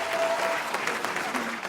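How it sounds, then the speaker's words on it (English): Comedy club audience claps in a steady, dense burst of applause, fairly close and full for the whole stretch, with a few scattered voices mixed in. "Round of applause, how many people did not get a sex talk in here?"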